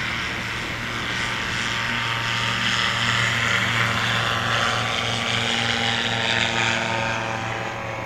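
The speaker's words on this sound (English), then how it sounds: "Tony Sanchez spooling it up." STOL aircraft engine at a Swamp STOL practice in Jennings, Louisiana, a loud steady propeller drone that swells slightly as it spools up for a short takeoff.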